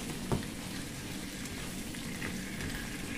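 Squid sizzles and fries steadily in a pan while adobong pusit is cooked, a constant crackling hiss with one brief clatter near the start and no talk.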